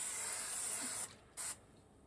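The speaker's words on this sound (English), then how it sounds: "put a little bit of this on the pan" Coconut cooking spray misted onto a pan in two hisses, a steady one-second spray followed by a short second burst, close and clear in a quiet kitchen.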